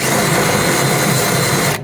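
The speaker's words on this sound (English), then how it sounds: "what I'm using is just a broken bit, and I just flattened it off on the end" Close, loud power drill fitted with a broken bit flattened at the tip, grinding out spot weld holes and primer in a 1965 Thunderbird front floor pan, running steadily and alone before stopping abruptly.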